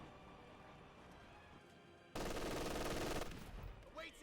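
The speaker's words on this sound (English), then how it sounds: "MG42 is currently working on the Gren" An MG42 machine gun in the video game Company of Heroes 2 rips out a loud, dense burst lasting about a second amid quieter battlefield noise, followed by a few scattered shots.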